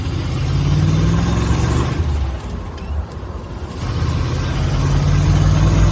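A 1973 Jeep CJ-5 with a 304 small block V8 runs loud and close, a steady throaty rumble that dips briefly mid-clip before swelling again as the throttle opens.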